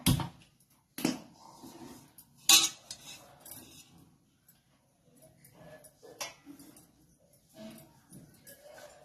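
A metal cooking pot and utensils clank and scrape in a few sharp knocks, close by, with quieter handling sounds between them.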